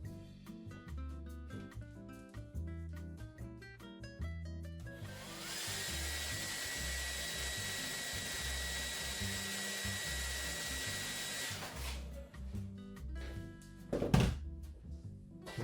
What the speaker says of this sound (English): I'll be able to dull the noise of the hairdryer down when we render this video out